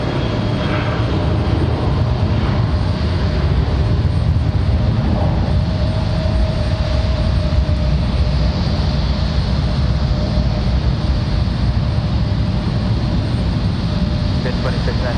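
A plane at Raleigh Durham International airport roars steadily and loudly in windy conditions, a constant broadband engine rumble with a faint whining tone, heard throughout over gusting wind.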